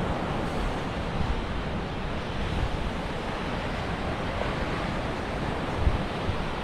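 Sea waves wash steadily onto Tannirbhavi beach near Mangaluru on a calm winter day, a continuous broadband surf roar with light wind, no voices.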